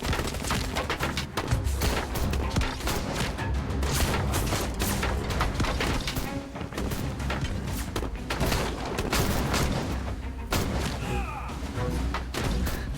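Pistol shots ring out in Syberia: The World Before, packed into a dense, loud stretch of rapid overlapping bangs and thuds that runs for the whole passage.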